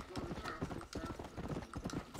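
Hooves of an apocalypse horse in Red Dead Redemption: Undead Nightmare clip-clop at a steady gallop, loud and close, mixed with game ambience and a voice speaking over them.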